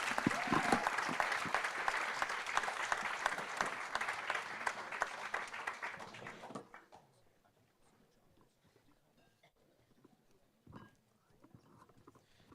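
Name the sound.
applause for the panel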